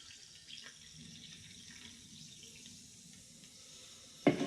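Sparkling water is poured to top off a vodka soda in a glass, a soft, steady fizzing trickle heard close but faint, ending with a brief clink or knock.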